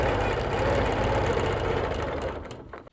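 A sewing machine stitches a quilt in a steady, fast, close mechanical whir that runs continuously and then slows and stops at the end.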